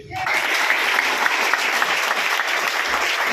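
Dense, steady applause from an audience at a Mi Lifestyle Marketing business gathering in Tirur, starting abruptly and holding at an even, loud level with no voices over it.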